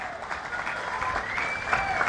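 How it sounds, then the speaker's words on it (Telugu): A crowd at a public Swarna Andhra-Swachh Andhra programme in Tanuku breaks into steady, dense applause for the whole brief moment, heard from within the audience. "వాళ్ళందరినీ గట్టిగా చప్పట్లు కొట్టి అభినందించండి"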